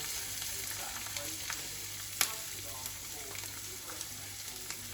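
Onions and liver frying in a pan in a home kitchen, a steady soft sizzle with faint scrapes and small clicks throughout, fairly quiet and without talk.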